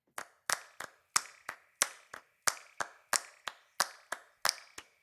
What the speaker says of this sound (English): I knew I wanted to add a little clapping intro to hook the listener into the song.